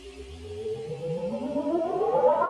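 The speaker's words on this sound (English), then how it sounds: "Then I just got a couple of these like rising type of sounds." Synth rising sound effects layered into a gritty boom bap beat, several pitched sweeps climbing steadily together and swelling in loudness over about two seconds, with no talking.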